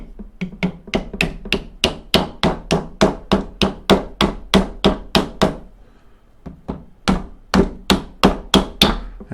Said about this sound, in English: Just a nylon hammer is all I'm going to use